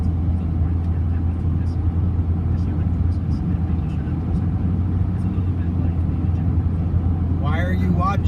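A car cruises north on the I-95 highway near Miami, South Florida, giving a loud, steady low road rumble and engine drone from inside the cabin.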